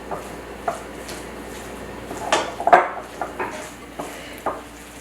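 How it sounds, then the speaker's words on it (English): Meat and cream cheese stuffing mixed in a bowl for stuffed mushrooms, heard as scattered soft knocks and scrapes of a utensil against the bowl, a few louder clacks in the middle, with no talking. "you'll want to mix all of your ingredients very well before you add in your shredded cheese"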